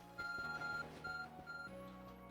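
A phone notification in Pokemon Legends: Arceus plays as a short electronic chime of sustained tonal beeps that changes pitch, heard over quiet game background sound.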